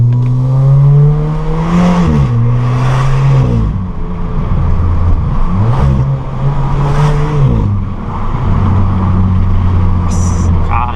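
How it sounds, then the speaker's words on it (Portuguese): A 2023 Volkswagen Polo GTS with a sports exhaust roars in city traffic, its engine revving and dropping in repeated surges close by, with a voice talking over it. "Quero mais que vocês escutem o ronco."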